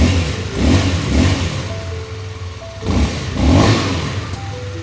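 A CFLite Dual 250 motorcycle idles with a quiet stock exhaust, its engine note swelling in two gentle revs and settling back, close by with no talking.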